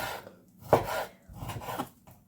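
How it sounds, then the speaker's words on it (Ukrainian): A knife cuts through meat on a kitchen surface with two or three dull, close slicing strokes, each a short rasping scrape followed by a pause. "ріжу м'яско"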